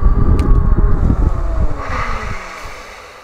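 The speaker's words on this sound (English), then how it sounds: "controlled, quiet stop, except for me skidding the back tire" A cheap all-wheel-drive Hanevear H100 electric bike slows to a stop outdoors with its rear tire skidding, giving a loud rough rumble and wind noise that fade as it halts, with a faint whine at the end.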